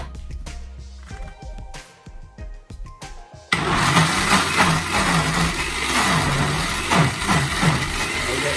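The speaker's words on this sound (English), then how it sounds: "I'm just going to blend this up now" An electric blender starts up and whirs steadily through a Jamaican Christmas cake fruit mixture, a loud continuous grinding drone after a few clinks and handling noises.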